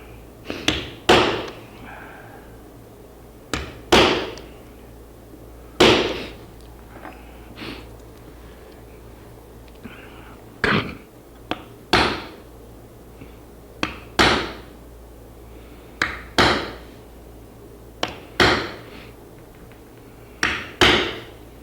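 A hammer striking a punch into a tin panel laid over MDF, giving sharp metallic taps in irregular bursts of one to three blows with short pauses, close and loud, repeated across the whole stretch with no talking.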